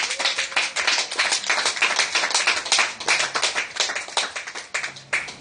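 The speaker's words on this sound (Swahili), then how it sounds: "Hebu pigia Bwana makofi makubwa." A church congregation at a Bible study and prayer meeting claps together in praise of the Lord, with steady, dense hand clapping that keeps going without a break from start to finish.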